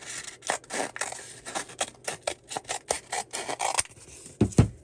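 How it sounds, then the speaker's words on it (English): Cutting material in half while making a French knitter: a steady run of close rasping, rubbing snips in rapid succession, ending with a louder thump, with no talk. "We're gonna cut this in half, and then you can go ahead and cut it in half again."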